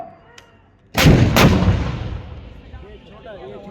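A 130mm M46 gun and a 155mm Soltam artillery gun firing at a live-fire demonstration range: two booming reports in quick succession, loud and near, then a long rumbling echo that slowly fades.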